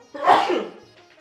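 A single loud, close sneeze, a sharp burst that fades quickly into quiet.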